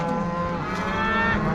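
Cattle moo loudly and steadily on a farm as the herd is gathered and driven down a road, one long, close bellow with harmonic overtones and no talk.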